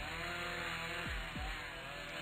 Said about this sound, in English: I think we're going to need the chainsaw.